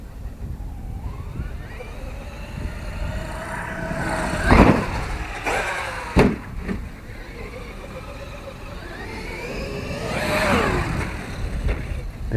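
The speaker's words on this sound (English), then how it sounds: "It's like an off throttle glitch." Traxxas X-Maxx RC truck motor whining up and down in pitch with a few sharp bangs and an off-throttle glitch, rising and falling sweeps close by over outdoor background noise.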